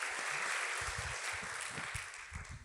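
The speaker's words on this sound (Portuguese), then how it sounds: "A plateia aplaude alegremente" An audience applauds a talk at a public conversation event, a quiet, distant wash of clapping heard faintly in the background throughout.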